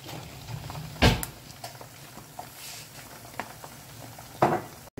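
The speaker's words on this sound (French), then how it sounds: "Donc je vais faire frire mes cuisses de poulet et je reviens vers vous." Chicken legs fry in hot oil in a pan with a soft, steady sizzle, broken by two louder clattering knocks of cookware, close up and with no talk.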